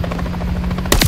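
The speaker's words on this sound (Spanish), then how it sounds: "Helicóptero a la vista." A helicopter in Call of Duty: Modern Warfare 3 gives a loud, rapid rotor chop throughout, with a sharp burst of gunfire near the end.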